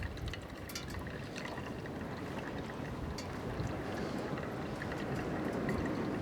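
Hot water pours steadily into a Stanley pour-over travel coffee set outdoors at camp, a continuous close splashing, trickling wash that stays even and unbroken throughout, with no talking.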